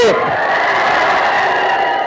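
A crowd at a film trailer launch event for Eagle sends up a loud, sustained roar of shouting and cheering, with a brief voice-like sweep at the start before the massed noise holds steady.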